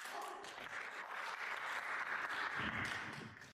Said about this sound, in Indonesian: Dengar tepuk tangan seluruh ruangan itu.